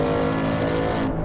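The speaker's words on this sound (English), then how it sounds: "if you're going to pick a car for your first run at Road America, it's got to be a Mustang V8" A Ford Mustang Mach 1 V8 with handling package runs on the Road America race track, its engine a loud, close, continuous roar for a brief moment.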